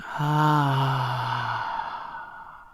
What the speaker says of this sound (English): When you open your throat, breathe in through your nose. And breathe out, open heart.